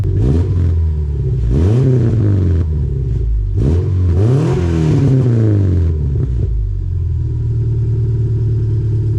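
A car fitted with a street bike exhaust revs loudly and close: several sharp rising blips of engine sound over a steady, rumbling idle, with no talking.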